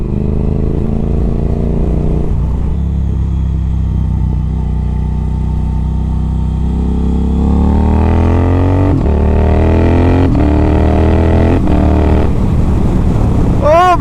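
A modded Triumph Thruxton R motorcycle engine accelerates hard through several quick-shifter gear changes. The pitch climbs, breaks at each shift and climbs again, loud and close over steady wind roar.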